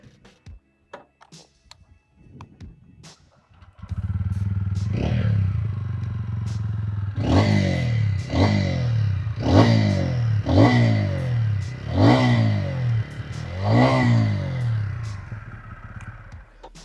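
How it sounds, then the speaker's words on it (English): A TVS Ronin 225 and a Royal Enfield Hunter 350 motorcycle start up and idle, then their exhausts are blipped in a run of about seven sharp, evenly spaced revs that rise and fall back to a loud, close idle. "I want to quickly show to you guys what both these motorcycles sound like,"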